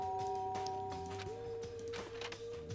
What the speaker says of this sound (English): There's a doorbell next to the door. I guess I should use that.